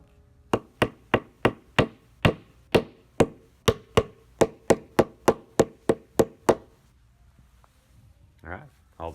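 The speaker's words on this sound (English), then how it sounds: "Some of them you will have to get the mallet out." A steady series of sharp taps, about fifteen evenly spaced knocks of a mallet driving pegs into an IKEA TROFAST storage unit, followed by a brief quiet rustle.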